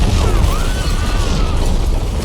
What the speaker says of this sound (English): Then the whole city trembles with a huge explosion.